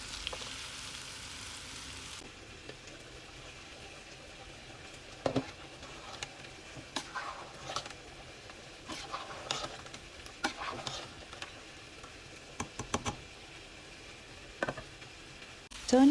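Chicken tikkas frying in butter in a non-stick pan, a faint steady sizzle with scattered light taps and scrapes of pieces being turned, growing a little busier in the middle.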